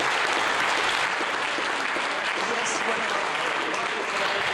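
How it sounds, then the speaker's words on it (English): Sustained applause rolls through the Mission Control Center at the James Webb Space Telescope launch, marking observatory separation, as a broad, steady wash of clapping at moderate distance. "amidst applause here in the Mission Control Center"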